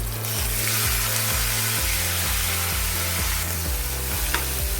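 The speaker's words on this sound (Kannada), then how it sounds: "ಇವಾಗ ಹೆಚ್ಚಿರೋ ಹಾಗಲಕಾಯಿನ ಹಾಕ್ತಾ ಇದ್ದೀನಿ" Chopped bitter gourd goes into a sizzling tempering in a pan for a Havyaka-style dry palya, giving a steady close sizzle with a repeating low tonal pulse underneath and no talking.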